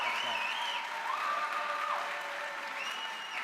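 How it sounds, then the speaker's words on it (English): An audience at a panel discussion applauds the speakers with steady, dense clapping that holds for several seconds at even loudness, while a faint voice or tone drifts over it. "Can we please get another round of applause for our speakers?"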